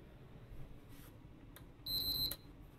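A short electronic beep sounds from a PlayStation console with no disc in it, close and clear against quiet room noise, preceded by a few small clicks.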